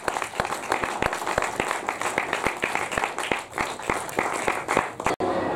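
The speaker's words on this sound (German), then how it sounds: "Applaus" Scattered applause from a cinema audience in Munich, individual claps standing out as a sparse, uneven patter close by, continuing for several seconds before a brief cut near the end.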